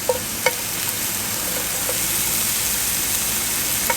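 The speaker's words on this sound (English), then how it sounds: "Now we're gonna go ahead and add the steak." Small steak pieces sizzling in a pan with mushrooms, a steady frying hiss with a few clinks of utensils near the start, close and even, with no talking.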